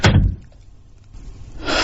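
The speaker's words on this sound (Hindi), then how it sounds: "और मैंने दरवाजा बंद कर लिया।" A door slams shut with a loud heavy thud at the start, followed by a short quiet pause and rising background noise.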